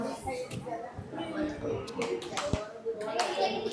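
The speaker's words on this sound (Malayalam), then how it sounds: "കൈയടിക്കോ?" A few people clap by hand at a small family birthday gathering of mothers and children, sparse uneven claps mixed with lively overlapping chatter and children's voices.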